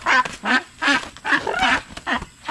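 A duck quacks in a video game, a series of loud nasal quacks in short uneven bursts, close and clear with brief pauses between calls.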